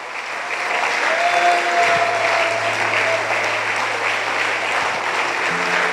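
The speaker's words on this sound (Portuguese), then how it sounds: "Vamos aplaudir a Ele." Congregation applause during a church worship service, steady dense clapping lasting several seconds over soft sustained instrumental tones.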